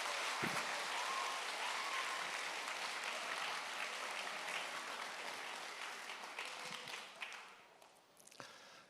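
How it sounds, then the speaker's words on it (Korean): A church congregation at an evening summer retreat service claps to welcome the pastor, a broad, fairly distant wash of applause that thins and fades toward the end. "목사님 나오실 때 큰 박수로 모시겠습니다"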